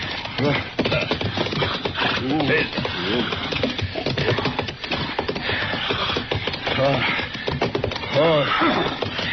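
A horse whinnies and neighs with hooves clopping in a western radio drama, loud and close, mixed under steady dialogue between men.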